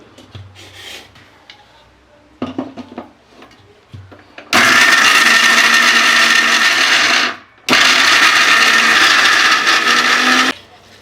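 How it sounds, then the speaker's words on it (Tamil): A kitchen mixer grinder grinds garlic, ginger and onion together for a banana flower vadakari. Two loud bursts of motor whine follow a few soft clatters and handling sounds, with a short gap between them. "இது பூண்டு, இஞ்சி, வெங்காயம் எல்லாம் ஒட்டுக்கா போட்டு ஆட்டிக்கலாங்க."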